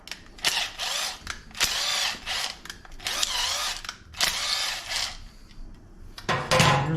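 Thread-cleaning tool running in and out of threads on Harley-Davidson motorcycle parts, a close power-tool whine rising and stopping in repeated bursts of about a second each, with clicks between runs.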